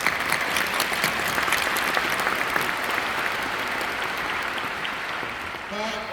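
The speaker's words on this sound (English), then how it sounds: "Please join us in giving them a round of applause." Conference audience applauding two program assistants at the CHI 2025 opening ceremony, sustained dense clapping from a large hall that tapers slightly near the end, with a voice starting at the close.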